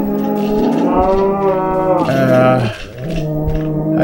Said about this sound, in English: Oh, even the baby cows sound different.